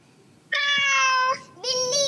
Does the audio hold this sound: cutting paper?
no